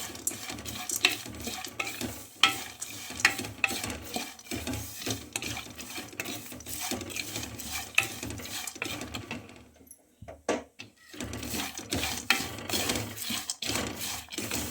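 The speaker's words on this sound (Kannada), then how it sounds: "ಚೆನ್ನಾಗಿ ಮಿಕ್ಸ್ ಮಾಡ್ಕೋಬೇಕು ಈ ಥರ ಮಿಕ್ಸ್ ಮಾಡ್ಕೋಬೇಕು" Masala-coated peanuts being stirred in a pan with a spoon, scraping and clattering steadily throughout with a faint sizzle underneath, briefly pausing near the middle before resuming; no talking.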